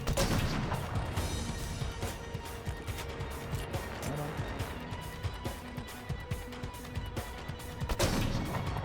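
Gunfire in the video game Killzone Shadow Fall on Elite mode, dense sustained shooting and crashing impacts over a loud, continuous game mix with no clear pauses.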